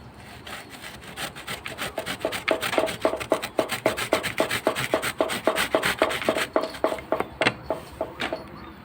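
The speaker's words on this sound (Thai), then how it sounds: "ก็จะทำซุปเปอร์แตงโดยใช้ การขูดเอานะคะ เดี๋ยวขูดก่อนนะ" A fresh cucumber rubbed against a hand grater for soup gives a close, steady run of quick rasping scrapes in an even rhythm, growing louder after the first couple of seconds.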